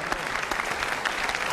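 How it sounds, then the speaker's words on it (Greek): Warm audience applause in a Greek TV game show studio, a dense steady wash of many hands clapping at once, even and sustained throughout. "Ένα θερμό χειροκρότημα για τα καλημερούδια."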